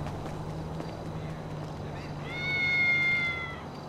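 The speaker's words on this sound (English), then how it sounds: "I stepped on a cat." Cat yowl in GTA 5 as the player character steps on the animal, a short rising meow near the end over a steady low game hum and background ambience.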